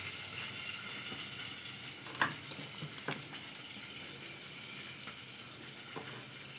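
Pointed gourd frying in a covered pan gives a faint, steady sizzle with a few soft clicks and pops.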